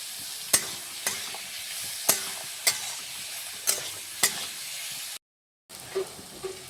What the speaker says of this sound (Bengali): এটাকে লাড়াচাড়া করে ভালোভাবে একদম লাল লাল করে ভাজে নিব